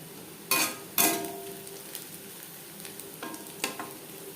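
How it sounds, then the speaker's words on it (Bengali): Onions fry in a pan until reddish brown, a soft steady sizzle broken by a few sharp scraping stirs of a spatula near the start and a couple of lighter scrapes later. "পেঁয়াজ লালচে করে ভেজে নেব। পেঁয়াজ অবশ্যই লালচে করে ভেজে নিতে হবে"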